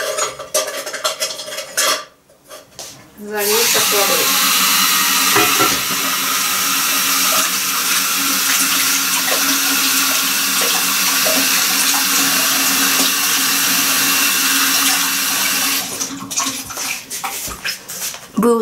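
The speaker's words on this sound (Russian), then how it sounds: "Вы услышали шум воды." Tap water runs into a kitchen sink while cooking sweet bean paste, a loud steady splashing rush after a few brief clinks at the start, cutting off near the end.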